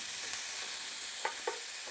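Onion, tomato and masala frying in hot oil for Hyderabadi chicken dum biryani: a close, steady sizzling hiss broken by a few soft stirring scrapes, with no voices.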